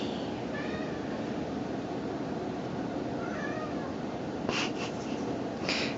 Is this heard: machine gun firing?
no